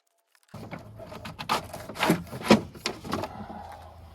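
A wiring harness is pulled through a rubber gasket on a 1991 Lotus Esprit, giving close, irregular rubbery scrapes and squeaks in short bursts after a moment of silence.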